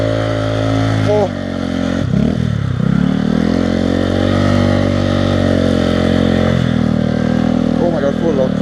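A Honda Grom motorcycle drifts in snow, its small engine buzzing and revving in loud, close bursts with brief dips, while excited voices shout over it.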